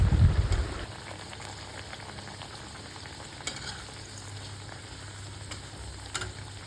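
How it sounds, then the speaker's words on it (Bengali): Mini moghlai egg parathas fry in oil over a medium-to-low flame, giving a steady, close crackling sizzle with a few faint pops throughout. "একটু মিডিয়াম টু লো ফ্লেমেই ভাজতে হবে"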